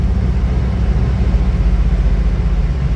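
Steady broadband whooshing rumble of fans blowing inside a truck cab, continuous and loud with a low engine hum underneath.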